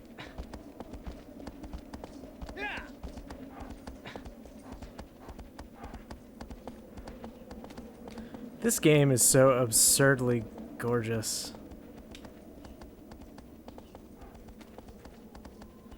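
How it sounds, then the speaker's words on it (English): Horse hooves clip-clopping in a steady rhythm while riding in Shadow of the Colossus, soft and continuous under a person talking, with a brief burst of louder game sound midway. "Yay, you can still ride, you can still surf the horse."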